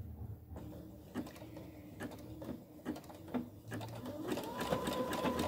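A domestic sewing machine stitches an appliqué zigzag along a fabric edge, its rapid rhythmic clatter quiet and close, pausing briefly between runs.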